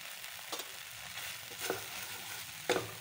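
Homemade garam masala and spices sizzle quietly in a pan for matar paneer, a soft continuous frying hiss broken by a few brief scrapes of stirring.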